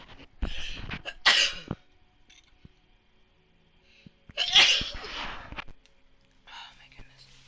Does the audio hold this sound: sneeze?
yes